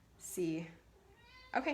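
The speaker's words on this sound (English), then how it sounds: "that's my cat meowing" A house cat gives a clear, drawn-out meow followed by a softer second call and a short third cry, heard up close and fairly quiet in an indoor room.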